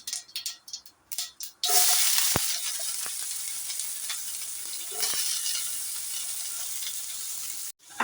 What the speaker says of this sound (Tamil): வெங்காயமும் கருவேப்பிலையும் ஆட் பண்ணிடலாம்